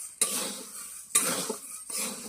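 Dry moong dal roasted in a pan, a metal spoon scraping and stirring in three short bursts of rattling, sizzling strokes, close up with no talk.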